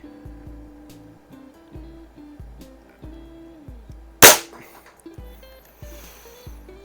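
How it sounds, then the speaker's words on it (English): A single shot from a Feinwerkbau 124 spring air rifle, a sharp, brief crack midway, standing out against a low steady hum and faint background noise. "how nice and quiet it is, and just such a nice gun to shoot"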